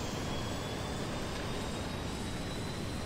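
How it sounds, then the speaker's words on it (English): Jet engines of a fixed-wing aircraft in the video game Neo Warfare X spool up for takeoff, a steady, dense roar that holds evenly throughout. "the plane that's taking off on top of me right now"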